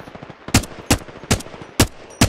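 Gunfire in the game Apex Legends: five evenly spaced, sharp single shots about a third of a second apart, loud and close against a quiet game background.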